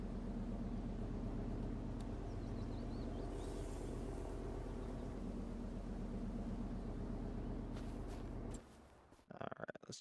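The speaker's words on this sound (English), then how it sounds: "Leave our truck running." A truck engine idles in the Farming Simulator 25 video game, a loud, steady low rumble that runs unbroken for most of the clip, then cuts off and gives way to brief clatter near the end.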